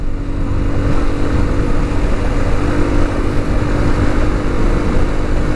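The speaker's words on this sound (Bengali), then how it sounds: "ভাই আমি তো বাইকের শুধু টান উঠাইতেছি" A motorbike engine rumbles loud and close while being ridden, throttle held open in a continuous droning roar with wind buffeting the microphone.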